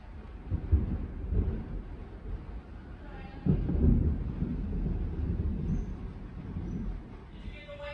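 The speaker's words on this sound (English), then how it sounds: "Huge thunderstorm here in Miami." Low rumbling thunder from a heavy Miami thunderstorm rolling through heavy background noise, with a deeper boom partway through, fairly distant and muffled.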